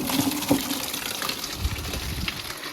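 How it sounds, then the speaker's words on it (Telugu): Water pours into a bucket, a continuous close gush and splash with small bubbling bumps. No one speaks. "ఇప్పుడు ఈ బకెట్లో నీళ్ళు నింపాం గైస్."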